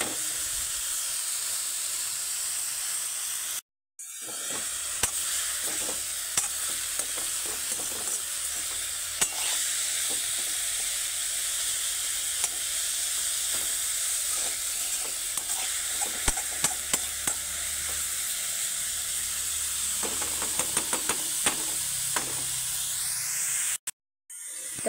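Dill and spinach greens fry in a pan, giving a loud, continuous hiss and sizzle with frequent scraping and tapping as a spoon stirs them, broken by two short silent gaps.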